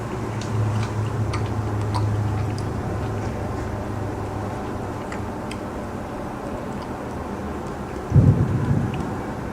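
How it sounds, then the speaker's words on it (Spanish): Steady rain and storm ambience in the video game The Suicide of Rachel Foster, a constant dense wash with small ticking drips, ending in a sudden low thunder rumble near the close. "Mira, la tormenta empeoró."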